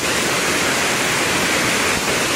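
Fast water rushes loudly and continuously at Kaniya Falls, a dense, steady roar close by with no breaks.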